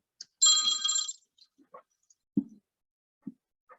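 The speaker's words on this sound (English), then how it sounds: "Sorry about the phone." A telephone rings once in a quiet room, a short bright burst of ringing near the start, followed by a few faint clicks and soft thumps.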